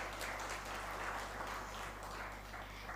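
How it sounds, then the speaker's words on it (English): Sustained applause from an audience at a hackathon winners' celebration, steady clapping throughout at moderate distance with no break. "Can we have a huge round of applause for all of them?"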